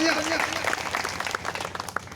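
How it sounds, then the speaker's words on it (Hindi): Applause from the audience at a ceremony honouring parents, a dense wash of clapping that stays steady and full throughout, with a voice speaking over it. "उनके लिए तालियां"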